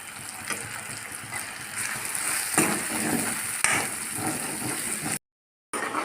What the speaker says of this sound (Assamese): তো এনেদৰে এইখিনি ভাজি লওঁ।